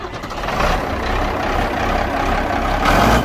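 A Ford TW35 tractor with a throttle needing a new cable runs loud and steady outdoors, a broad diesel rumble holding even throughout with a slight swell near the end.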